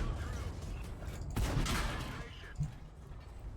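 Tank cannon fire in World of Tanks from a TVP T 50/51 medium tank, a loud booming shot with a short rumbling tail, followed by a smaller thud a second later.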